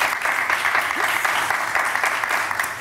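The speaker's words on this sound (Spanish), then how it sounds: "Un aplauso inmenso para Fernando." A television studio audience on a regional Aragón talk show applauds loudly to welcome a science communicator named Fernando. The clapping is close, thick and continuous from start to finish.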